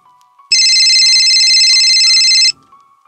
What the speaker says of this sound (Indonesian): telepon itu berbunyi